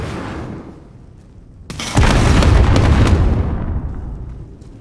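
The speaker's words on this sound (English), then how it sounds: "عم ارمي قنبلة." Grenade blast in Call of Duty Modern Warfare 2019, a sudden loud boom that erupts after a brief sharp crack and rolls off into a long fading rumble.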